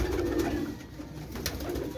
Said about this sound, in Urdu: یہ دیکھیں ماشاء اللہ کیسا ٹیڈی وریام کبوتر ہے